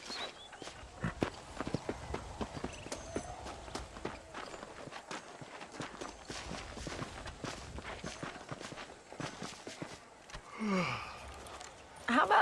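Horse hooves clip-clop at a walking pace in Red Dead Redemption, a steady irregular patter of footfalls close by with dialogue from characters running over it for much of the stretch.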